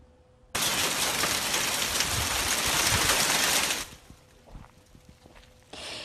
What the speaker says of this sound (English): And you can hear that hail clunking around there in Big Bear hitting the Jeep.